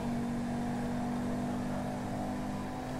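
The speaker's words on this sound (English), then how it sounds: "This car starts off very quick." An Audi R8 2019 Limited Edition accelerates hard in Grand Theft Auto V, a steady, loud engine drone with a strong sustained whine that holds throughout without talk.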